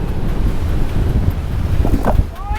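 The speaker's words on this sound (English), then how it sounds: "40 knots of wind!" Strong wind at sea aboard a sailboat, a loud steady roar of gusts buffeting the microphone with water rushing beneath, continuous throughout and without speech.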